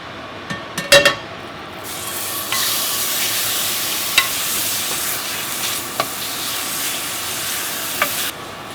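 Ground meat sizzles and fries in a pan with a teaspoon of oil, a steady loud crackle broken by a few clinks and scrapes of a utensil stirring against the pan.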